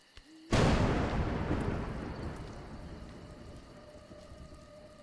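Thunder in the video game A Juggler's Tale, a sudden loud crack of a close thunderclap that booms and then rumbles away slowly over several seconds.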